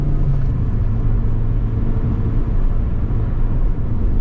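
A steady, loud low rumble of a Toyota AE111 moving fast on worn tires with a failing alternator, running on battery power, with dense road and engine noise filling the interior and no breaks.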